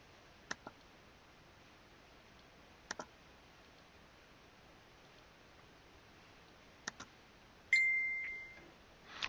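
A phone gives a short electronic notification beep in a quiet room, preceded by a few faint scattered clicks and followed by a soft rising noise.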